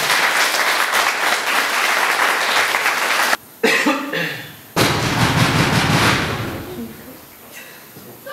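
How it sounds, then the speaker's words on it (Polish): A theatre audience at an amateur theatre marathon in Lubawa bursts into loud, sustained clapping, briefly cut off, then resuming and gradually fading, with a voice heard near the end. "Witamy i ogromnymi oklaskami."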